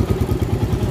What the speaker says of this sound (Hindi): इधर भी गाड़ी चालू रखा है, उधर भी चालू रखा है